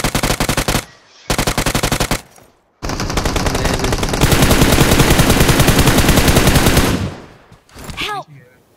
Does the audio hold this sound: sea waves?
no